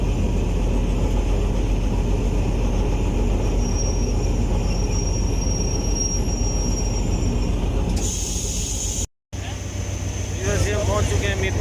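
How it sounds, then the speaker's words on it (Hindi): A train at Mirpur Khas Junction railway station rumbles loudly and steadily, with rail noise and wheel squeal filling the scene, followed by a brief cut and a sharper, higher-pitched stretch near the end. "पहुंच चुके हैं मीरपुर खास जंक्शन रेलवे स्टेशन"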